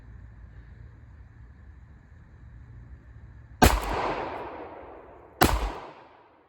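Two gunshots firing CCI rounds ring out about two seconds apart, each a loud, sharp crack with a decaying tail, over a low, steady background hum.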